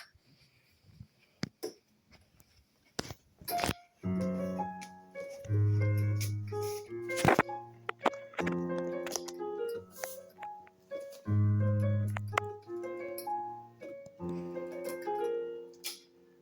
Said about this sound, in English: That's how the intro music sounds like